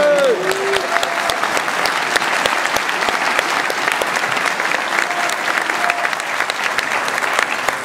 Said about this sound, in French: on peut applaudir leurs parents